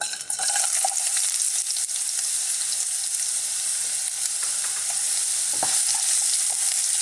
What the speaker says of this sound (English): what we're going to do is fry some nice, fresh ginger